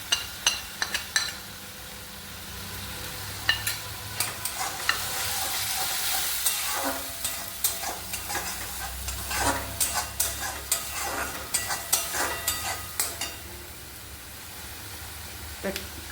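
Ground spices with chopped green chilli sizzle and fry in a pan for a green banana kofta curry, while a spoon stirs and scrapes in steady, close strokes throughout.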